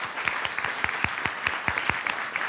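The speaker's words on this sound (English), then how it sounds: "Let's give these students another round of applause." Audience at a school board meeting claps for student competition winners, a short burst of sharp, distinct hand claps with a fairly sparse, uneven rhythm, close and clear with no talk over it.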